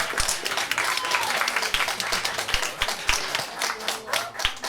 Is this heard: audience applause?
yes